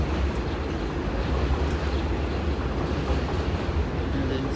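A dense, continuous rumble of train works with low rolling noise and clatter, steady throughout and fairly loud.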